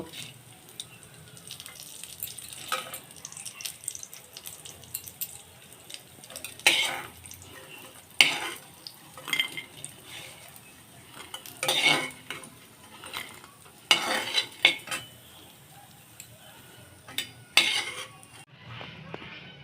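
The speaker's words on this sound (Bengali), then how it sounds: "বড়িগুলো এখন আমার ভাজা হয়ে গেছে আমি তুলে নেব" Fried lentil dumplings (bori) being lifted out of hot oil with a metal utensil, a run of scattered scraping and clinking taps against the pan over a faint steady background, close by.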